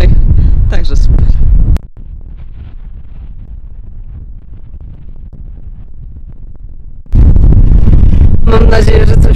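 Strong gale wind on the Södra Kungsleden trail in Sweden buffets the microphone in loud, rough bursts at the start and end, with a calmer, quieter stretch between.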